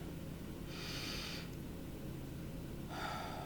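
Two slow, deep breaths taken by a woman, each a soft, airy inhale heard close and quiet with no talking, with a short pause between them.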